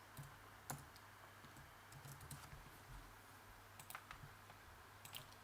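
Typing on a computer keyboard while entering Python code, a steady patter of quiet, close key clicks with a few sharper strikes, heard alone without voices.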